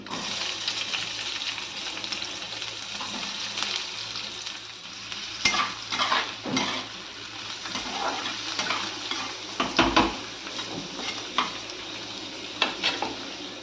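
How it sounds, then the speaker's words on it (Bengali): Onions with garlic frying in oil in a pan, a steady close sizzle with spoon scrapes and knocks against the pan recurring every second or so. "পেঁয়াজটা অল্প অল্প ভাজা ভাজা হয়ে এসছে।"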